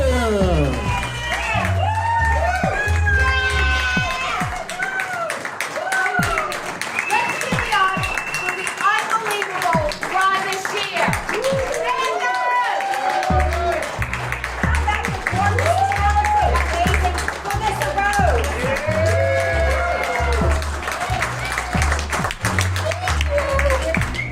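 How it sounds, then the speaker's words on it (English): An audience at a Horror Realm convention claps and cheers steadily, with scattered whoops and taps, while people talk loudly over it throughout. "Let's give them a warm round of applause"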